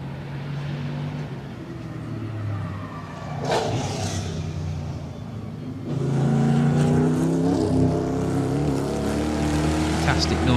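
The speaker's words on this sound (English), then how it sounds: "Fantastic noise from the engine." Euro NASCAR Ford Mustang race car driven at Goodwood Festival of Speed 2017, its V8 engine droning steadily and then rising louder from about six seconds as it revs up nearby, with crowd ambience underneath.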